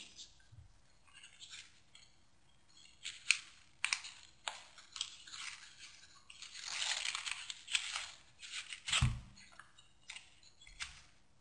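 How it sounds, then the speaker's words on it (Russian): Scissors snip and crunch through corrugated paper while trimming a reindeer craft. Irregular bursts of cutting and rustling come up close, with the paper crinkling between cuts. "Обрезаю лишнее."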